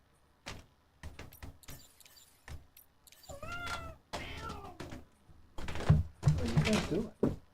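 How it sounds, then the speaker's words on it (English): A pet cat meows in a rising, wavering cry amid thumps and rustling as it moves around nearby, with a person talking over parts of it and bursts of game sound. "My cat's being crazy."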